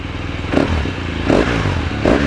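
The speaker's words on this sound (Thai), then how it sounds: "นี่ครับมาฟังเสียงท่อคันนี้กันก่อน" A 2016 BMW R1200GSA motorcycle with an Akrapovic exhaust idles loud and close, rumbling steadily with three quick rev blips spaced evenly through.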